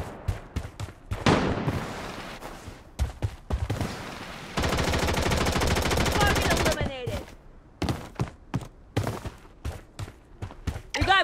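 Gunfire in the shooter game Blood Strike on PC, in a survival match: loud, close bursts of shots and a long sustained automatic stream, with scattered single cracks between, under game voice callouts.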